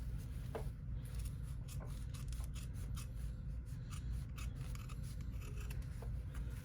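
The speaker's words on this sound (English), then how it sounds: "So I'm carefully going to go ahead and trim this vinyl down" Scissors trim vinyl for a slim embroidered phone bag, producing faint, repeated quick snips and rubbing over a steady low hum, with no talk.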